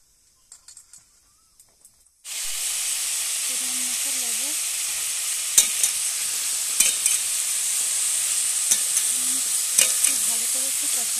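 Pointed gourd pieces frying in a few inches of oil in a kadai, a steady loud sizzle that starts abruptly after a quiet moment and continues with occasional pops and stirring clinks.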